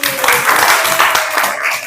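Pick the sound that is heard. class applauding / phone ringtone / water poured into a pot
class applauding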